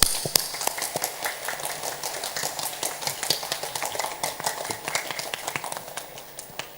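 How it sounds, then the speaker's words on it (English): Applause from an audience at a school performance, a steady patter of many hands clapping at moderate distance that tapers slightly toward the end, with no talk over it. "we all need to give a round of applause for them first"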